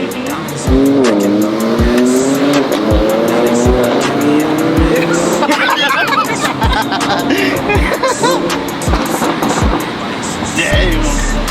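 A supercar swings through a U-turn, its engine revving in rising sweeps while the tires squeal and skid loudly and close, followed by continued engine roar and people chattering nearby.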